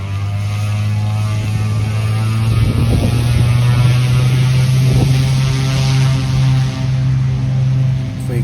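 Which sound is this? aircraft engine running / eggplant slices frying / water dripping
aircraft engine running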